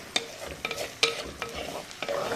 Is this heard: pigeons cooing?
no